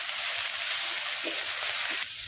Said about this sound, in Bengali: এবারে কুচিয়ে রাখা শাকটাকে দিয়ে দিচ্ছি